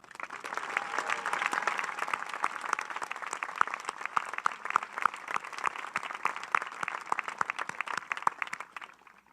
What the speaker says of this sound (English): I'd like these students to please stand for a round of applause